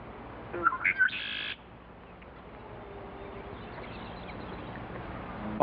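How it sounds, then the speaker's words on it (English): Male red-winged blackbirds calling around a spring bog, a few bright squawking chirps up close at the start, then a faint, wide outdoor hush. "a chorus of male red-winged blackbirds flash their gold-fringed epaulets"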